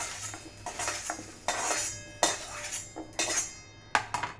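Partly cooked vegetables for paneer tikka masala are scraped and tipped from a pan onto a plate, giving a close series of clinks, scrapes and metallic knocks from utensil against pan and plate, with no talking.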